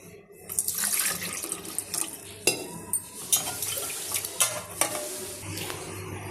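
Water pours and splashes into a cooking pot, six glasses for a cup of flour, with running-water gurgle and occasional clinks of the vessel, close and moderately loud with no talking.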